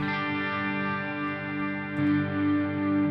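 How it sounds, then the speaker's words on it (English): Electric guitar played through a Headrush pedalboard with compression, delay and a secondary reverb engaged, sustaining a thick, distorted chord with long shimmering tails, steady and loud, a fresh attack near two seconds, no voices. "Then it kicks in the secondary reverb."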